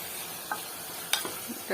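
A few quick scraping strokes of a spoon stir rice into water and tempering in a pan for red pulao, faint and close, with a soft sizzle underneath.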